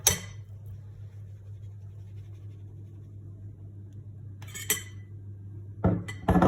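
Cutlery scraping and clinking against a dish as tuna is added to reheated rice with cucumber. A low steady hum runs underneath, and a few sharp clinks come near the start and the end. No one speaks.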